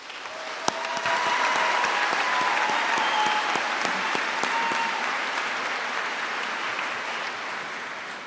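Graduation audience at a high school commencement ceremony breaks into sustained applause, a dense wash of many hands clapping that swells quickly and holds steady before slowly tapering.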